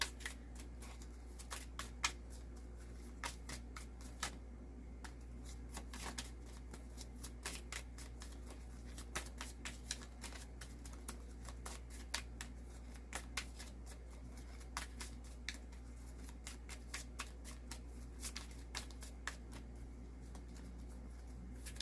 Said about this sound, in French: Ici, c'est l'oracle d'Isis que je suis en train de brasser.